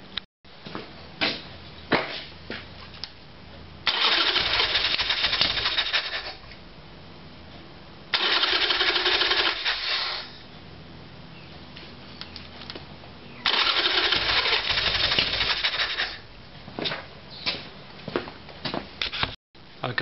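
A Harley-Davidson Evolution Sportster with a carburetor problem is cranked with the starter in three long, loud whirring bursts separated by pauses, the engine failing to catch, with clicks and handling noises between attempts.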